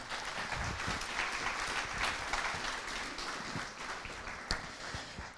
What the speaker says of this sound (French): vous pouvez l'applaudir une nouvelle fois.